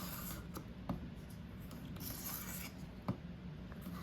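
A folding knife with thumb studs is drawn lightly across a ceramic sharpener, giving faint, steady scraping strokes with a few soft clicks, quiet and without voices.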